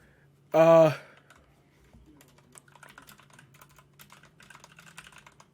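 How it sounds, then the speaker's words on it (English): Soft, rapid keyboard typing clatters steadily for several seconds after a brief burst of voice at the start. "I'm typing mad now."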